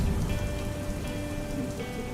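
Torrential rain pours continuously, a dense, steady hiss of drops striking surfaces, close and evenly loud throughout with no voices.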